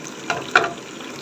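Ginger and garlic sizzle steadily in hot oil, a close, continuous frying hiss with a couple of brief louder crackles, with no talk.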